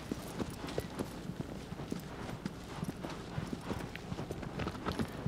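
A horse galloping in the Shadow of the Colossus video game, hooves pounding in a fast, steady rhythm of close, distinct clip-clops over a low rumbling background.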